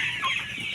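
Farm chickens being raised for meat cluck and chirp in a brief, faint burst of high-pitched calls, with no talk over them.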